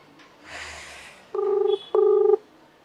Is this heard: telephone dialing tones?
yes